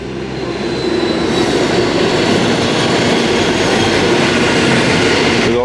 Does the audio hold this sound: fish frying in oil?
no